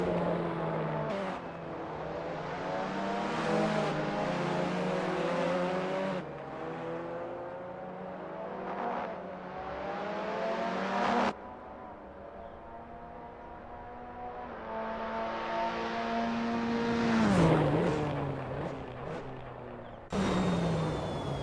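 A Tatuus F3 T-318 race car laps the Estoril 2021 no-chicane layout in Assetto Corsa, its high-revving engine climbing through gears with sharp shift cuts, rising and dropping pitch, loud and close, with no talk.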